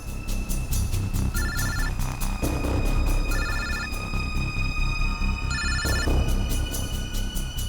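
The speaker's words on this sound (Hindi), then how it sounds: "सर इस पूजा के बैग से फोन बज रहा है।" A mobile phone rings from inside a bag with a repeating electronic ringtone in regular bursts, steady and moderately loud over a low background hum.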